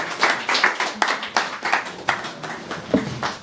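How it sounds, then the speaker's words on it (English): Audience clapping at a startup pitch regional final, loud and nearby, with sparse uneven hand claps at roughly three per second and a faint voice near the end. "Can I get a round of applause?"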